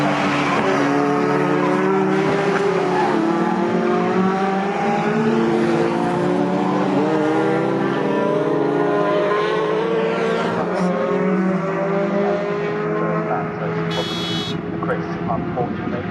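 Four pickup trucks race at the Snetterton circuit, their engines droning steadily together as they head for the Bentley straight, heard under continuous commentary.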